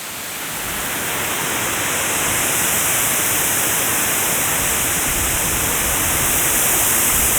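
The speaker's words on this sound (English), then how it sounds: "big old waterfall." Constant roaring rush of a large waterfall in the Eden Project's indoor rainforest, England, a dense unbroken wash of water noise that swells slightly at the start and then holds steady.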